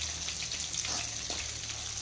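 Curry leaves, dried chillies and garlic fry in oil over a low flame, giving a steady soft sizzle with faint crackles, close and alone.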